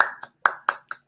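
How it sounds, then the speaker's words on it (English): Applause for Marco from a small group: about five sharp, separate claps in an uneven rhythm, close and clear, with no talking between them. "Everyone give him a round of applause."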